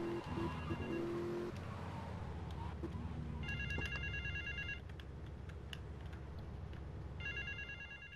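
A telephone rings in two separate bursts in the video game GTA Vice City, over a steady car engine drone, with no talking.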